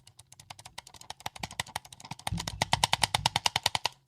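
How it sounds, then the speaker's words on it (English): A computer mouse clicks rapidly and repeatedly, crisp close taps in a quick, uneven stream that grows denser and louder toward the end, with no talking. "You just start clicking around, clicking different things, clicking in the menus."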